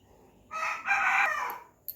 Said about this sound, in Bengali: আর মুরগিগুলোকে চেঁচাচ্ছে দেখ